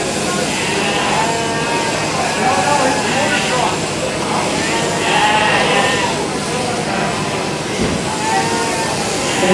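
Sheep bleating during a competitive shearing contest at a stampede arena, repeated wavering cries mixed into crowd noise and an announcer's running commentary.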